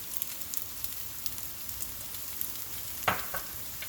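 Napa cabbage and carrots stir-frying in a hot pan for shrimp pad thai, a steady close sizzle with light crackles and one louder clatter of stirring near the end.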